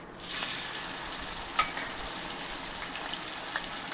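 Tomatoes tossed into hot oil with curry leaves in a kadhai, sizzling steadily at close range after a sudden start, with a few louder crackles and pops and no talking.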